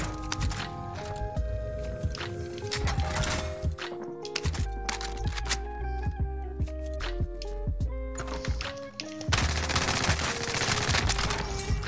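Rapid three-round bursts from an AUG rifle in Call of Duty: Warzone crack out repeatedly, loud and close, over a dense layer of game music and effects.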